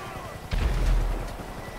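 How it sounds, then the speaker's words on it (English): A homing missile explosion in GTA Online hits as a single deep, rumbling boom partway through, rolling out over a steady background of game noise. "It's like homing missiles sometimes."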